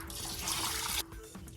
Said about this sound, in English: Add some water.